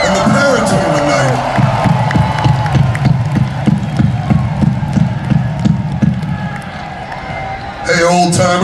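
A concert crowd at a show cheers and whoops, with scattered applause, in a large venue, while someone speaks loudly over the noise and the crowd swells again near the end.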